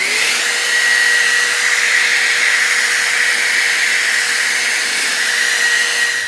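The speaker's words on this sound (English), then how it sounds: "now I'm going to be blow drying once with cold air." A hair dryer on its cold setting blows steadily onto sheets of paper being aged. It is a loud, constant whooshing hum that runs close and unbroken throughout, with no talk.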